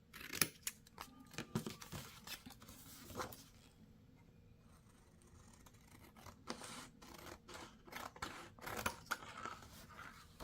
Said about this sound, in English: I'm just going to go ahead and use my scissors